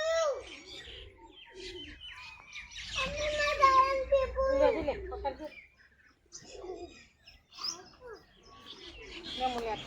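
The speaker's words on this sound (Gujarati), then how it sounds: "કબૂતર ને કોઈ મોર ને" Pigeons coo and peacocks call around a millet field on a farm, the bird sounds mixed in with people talking and children's voices close by.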